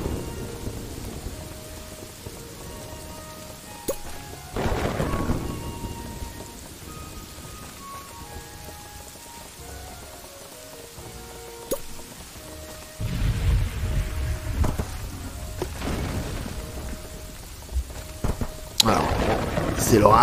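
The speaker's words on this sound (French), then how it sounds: "C'est l'orage, c'est pas grave, c'est la foudre qui s'abat." Thunderstorm in the Kingdoms and Castles strategy game: steady rain hiss with rumbling thunder surges and a loud lightning crack near the end, over faint background game music.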